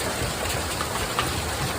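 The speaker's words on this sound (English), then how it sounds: "There's some big hail in that." A hailstorm pours onto Strawberry Reservoir in Utah during a thunderstorm, a dense, steady hiss of falling ice and water with scattered sharper impacts, loud and close.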